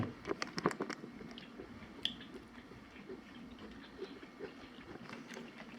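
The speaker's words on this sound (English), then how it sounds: "You hear me crunching on that mini corn?" Someone crunches on a mini corn snack up close, with a few quick crisp bites at first followed by softer, irregular chewing against quiet room noise.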